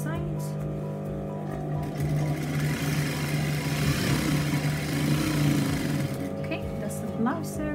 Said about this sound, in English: it just stitch the side, so it's starting with the sleeve.